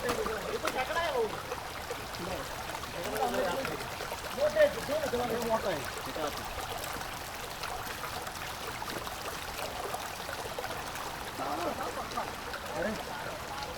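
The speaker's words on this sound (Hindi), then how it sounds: "आप बस पानी का आवाज़ सुनो।" Steady broadband rushing of a flowing jungle stream on the Andharban trek runs throughout, with faint indistinct voices and small splashes mixed in.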